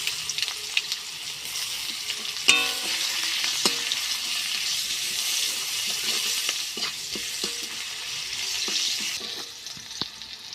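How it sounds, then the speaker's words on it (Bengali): Five-spice and chopped onions fry in hot oil with a dense, steady sizzle lasting throughout, close and fairly loud, marked by scattered clicks and one sharper knock of a utensil. "মধ্যে দিয়ে দেবো 5 ফোড়ন, পেঁয়াজ, কুচানো পেঁয়াজ,"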